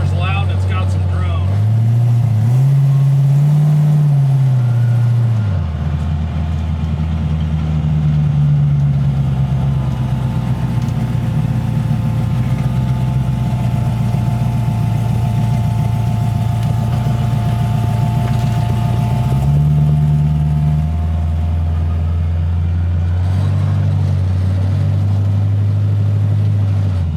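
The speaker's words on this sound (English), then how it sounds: "This car is loud and it's got some drone." A 1940 Ford's engine drones loudly from inside the cabin while driving, a steady low hum whose pitch rises and falls as the car speeds up and shifts, continuous throughout.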